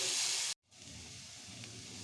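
Onions frying in a pan for a peas and potato dish give a steady, bright hiss that cuts out abruptly for a moment, then resumes as a softer, even sizzle.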